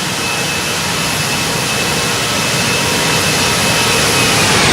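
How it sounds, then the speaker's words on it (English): A Toliss Airbus A321 in X-Plane 11 roars past in a low flyby, its jet engine a loud, steady broadband rush that holds and slightly swells throughout, with no talk over it. "Let's get a quick flyby."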